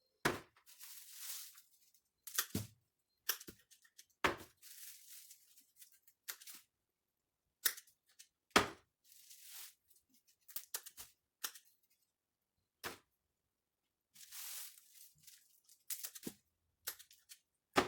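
Scissors snip through garlic in short, crisp cuts separated by silences, a dozen or so close, quiet clips and crunches scattered irregularly.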